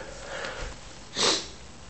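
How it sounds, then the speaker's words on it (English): A single sharp, wet sniff from someone with a cold, close to the microphone, preceded by softer breathing noise. "Sorry for the sniffling, I have a bit of a cold."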